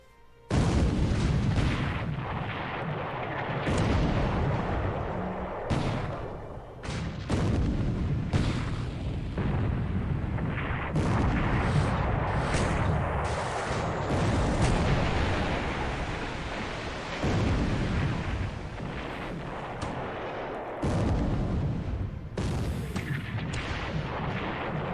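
Battleship gunfire against cruisers in the naval video game War in the Pacific: heavy, booming salvos roll almost without pause, deep thuds and crashing blasts layered over a constant rumbling wash.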